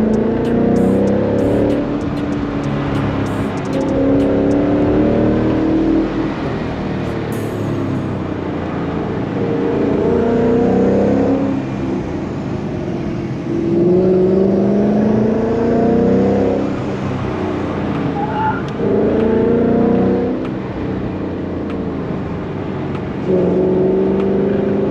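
A Ford Mustang drives hard on the Tail of the Dragon mountain road. The engine note is loud and steady, rising and falling in repeated revving sweeps through the gears.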